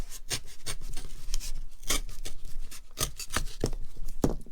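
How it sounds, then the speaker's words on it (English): A blade cuts around a marked line on a paper mache pumpkin with repeated scratchy rasping strokes at an uneven rhythm, close up and fairly loud, with no talking. "I'm going to take my blade and I'm going to just cut around that mark."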